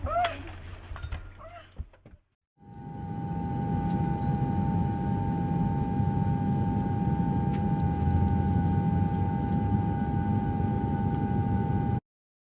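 Airplane cabin in flight during a plane crash, a steady loud engine drone with a constant hum lasting about ten seconds after a brief burst of commotion at the start, then cutting out.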